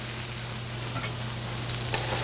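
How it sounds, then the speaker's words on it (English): Bay scallops sauté in a pot for a seafood stew, giving a steady, close frying sizzle with a couple of faint stirring clicks. "I'm going to get them sauteing now"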